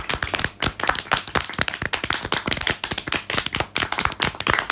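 Cartoon clapping, a crisp run of individual hand claps in quick irregular bursts, close and fairly loud with no voices over it.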